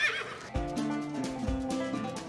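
A horse on a farm gives a loud, quavering whinny close by, its pulsing call repeating in a couple of shaky bursts, with faint hoof sounds beneath.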